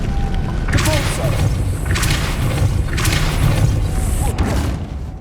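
Depulso force spell cast repeatedly in the video game Hogwarts Legacy, with several broadband whooshing bursts and thuds recurring about once a second over steady game ambience and a low rumble.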